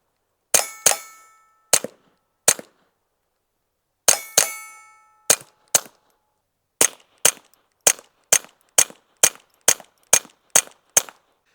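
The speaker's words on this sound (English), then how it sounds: "This is CCI quiet semi-auto, so it's supposed to cycle the semi-auto handguns while also being pretty quiet." Sharp pistol shots from a Retay RXP 22 firing CCI Quiet semi-auto .22 ammunition, about fifteen cracks, first slow and spaced with brief ringing tails, then a steadier rapid string, close and distinct with no talk.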